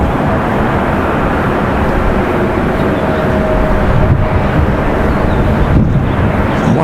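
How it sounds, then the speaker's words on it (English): An Air France Boeing 777-200 with GE engines pushes back at Raleigh-Durham airport, giving a loud, steady broadband jet rumble and whine with wind buffeting, constant throughout. "there's Air France pushing back in that 777-200 with the GEs"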